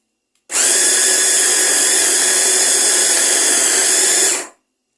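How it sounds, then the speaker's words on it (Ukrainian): A kitchen blender whirs steadily for about four seconds, blending garlic scapes with oil, seasoning and salt, loud and close with an abrupt start and stop and no voices. "І блендер."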